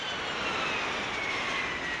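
Steady, continuous drone of an airplane engine, a broad even roar with a faint high whine running through it, holding at constant loudness without breaks or voices.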